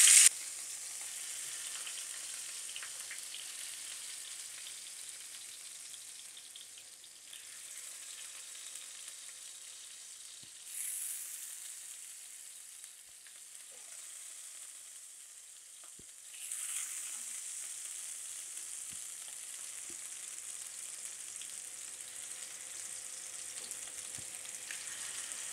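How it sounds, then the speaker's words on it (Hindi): Beef golla kebabs frying in a little hot oil, a continuous soft sizzle with gentle swells, steady and close, with no voices. "थोड़े से ऑयल में फ्राई करना है"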